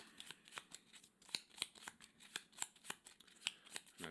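Cards are shuffled for the Gloomhaven: Jaws of the Lion board game as a quiet run of quick, crisp riffling snaps in a steady rhythm, close by and alone.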